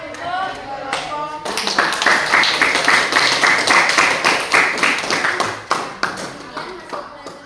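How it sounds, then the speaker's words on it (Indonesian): A room of students bursts into crisp, fairly close clapping for a classroom presentation group, rising after a brief voice at the start and holding steady before thinning near the end. "Tepuk tangan untuk kelompok"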